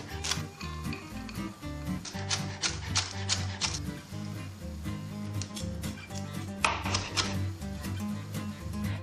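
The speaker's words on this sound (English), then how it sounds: "I'm going to chop up a rib of celery," A knife chops a rib of celery, scallions and fresh dill on a cutting board in a steady run of crisp, close taps, with brief pauses between bursts.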